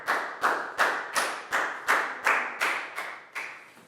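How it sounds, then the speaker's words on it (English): A Year 4 maths class claps for a classmate, with about nine evenly spaced, loud bursts of clapping that each decay quickly, in a steady rhythm. "Big round of applause for Pangpon."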